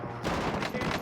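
Dense video game gunfire from a battle royale match with akimbo Sykov pistols, a loud continuous burst of rapid shots filling the whole moment up close, with a voice faintly underneath.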